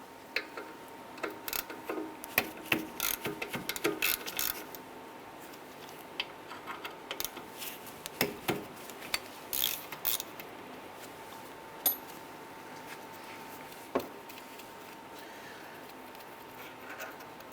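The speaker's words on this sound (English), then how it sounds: "Using a 13mm socket, we're going to go ahead and remove this slider pin bolt and this one too" A 13mm socket on a ratchet works the brake caliper slider pin bolts loose on the rear brakes of a 2003-2007 Jeep Liberty, producing quiet, scattered clicks and metallic ticks against a faint background hum.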